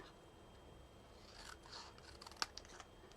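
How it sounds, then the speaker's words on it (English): Scissors cut through paper for a card-making craft, giving a few soft slicing rustles and then one sharp snip with small clicks after it, close and fairly quiet, with no talk. "now I'm going to cut it in half"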